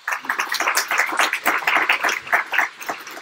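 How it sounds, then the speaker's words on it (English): An audience applauds, with dense, steady clapping from many hands for a few seconds. "Round of applause for David Zerlin."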